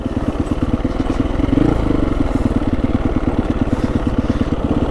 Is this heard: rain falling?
no